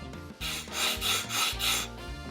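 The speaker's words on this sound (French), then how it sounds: "remettre le couvercle correctement avant de bien le secouer pour bien mélanger" A cleaning tank for a LEVELUK K8 machine, filled with cleaning powder and 400 ml of water, is shaken by hand. The lid is on, and the contents slosh and rattle in three or four vigorous bursts, close and fairly loud.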